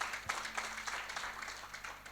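A church congregation applauding, a dense patter of many hands clapping at moderate distance that carries steadily throughout, with a faint voice underneath.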